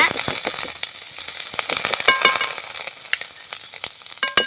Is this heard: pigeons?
no